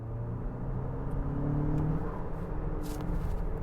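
A 2025 Nissan Murano accelerates in sport mode, a steady low engine drone and road rumble building gently and holding throughout, with no talk over it.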